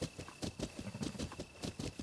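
Horse hooves clip-clop at a steady walking rhythm in a Breath of the Wild style video game, a run of moderately loud, close knocks repeating over a faint background tone.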